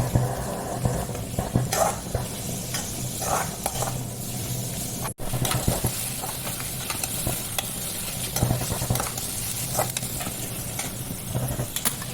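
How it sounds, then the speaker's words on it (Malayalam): Onions frying in ghee and coconut oil in a pan, a continuous close sizzle with scattered stirring scrapes and clinks throughout, no voices. "ഈ ഉള്ളി ഇട്ടിട്ട് നല്ലോണം വറുത്തെടുക്കുക ലൈറ്റ് ബ്രൗൺ നിറാവുന്ന വരെ വറുത്തെടുക്കുക"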